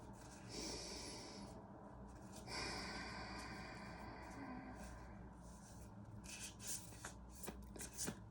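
Tarot cards riffle and shuffle in soft, repeated papery bursts close up, with a few sharper taps near the end and no talking.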